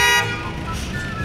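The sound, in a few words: car horns honking in traffic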